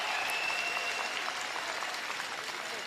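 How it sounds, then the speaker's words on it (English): A crowd at the 2018 World Men's Curling Championship, in the Norway v Canada round-robin game, applauds steadily throughout at moderate, even loudness, with no clear voices above it. "Canadian crowd really appreciating that performance from Brad Gushu and his team."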